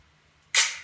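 A single crisp finger snap sample from a music production track hits sharply after a near-silent half second, bright and close, then decays quickly.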